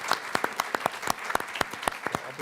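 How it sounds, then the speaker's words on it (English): Audience members at a Stop Food Waste Day panel applaud the panelists, a moderate, fairly sparse burst of distinct hand claps heard alone without speech. "I think we owe them a huge round of applause for their leadership."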